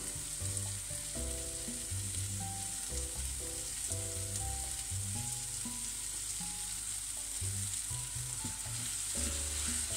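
A frying pan sizzles steadily as tamari sauce is stirred into cooking onions and tomatoes, a continuous close hiss with soft stirring over background music.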